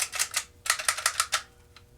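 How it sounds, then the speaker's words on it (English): Toy foam dart blaster cocked and clicked, a quick series of sharp mechanical clicks in two bursts followed by a faint final click, close and alone. "This one has a much satisfying click sound."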